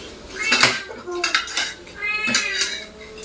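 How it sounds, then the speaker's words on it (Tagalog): A cat meows repeatedly to be let in while dishes and cutlery clatter nearby and people talk over the cries. "Yung pusa, gusto siyang pumasok"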